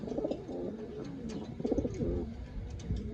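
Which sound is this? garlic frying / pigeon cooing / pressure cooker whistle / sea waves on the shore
pigeon cooing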